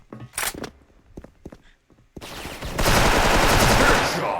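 A few scattered gunshots and thuds give way to sustained rapid automatic gunfire from an M4A1 in the video game Special Force, loud and close, continuing to the end.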